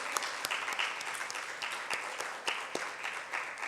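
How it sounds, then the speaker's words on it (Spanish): A crowd applauds steadily, a dense patter of many hands clapping at an even level throughout, with a few sharper claps standing out. "Dale un aplauso al Señor."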